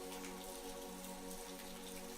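Steady rain pours down in an even, unbroken wash with no voices, a continuous downpour like torrents drumming at a rocky cave entrance.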